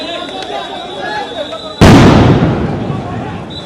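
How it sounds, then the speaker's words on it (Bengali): A single loud stun grenade detonates at a street protest by students near Dhanmondi 32, thrown by police, a sudden close blast that rolls off into a lingering roar over crowd noise and voices. "পুলিশ কিন্তু সাউন্ড গ্রেনেড নিক্ষেপ করে"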